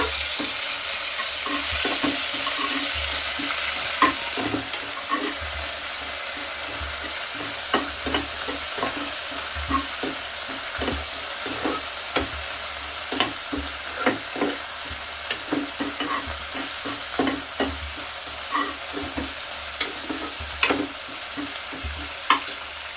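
Curry leaves sizzling steadily in hot oil while a Telugu dal khichdi is prepared, a continuous close frying crackle broken by frequent spoon stirs and scrapes against the pan, with no talking.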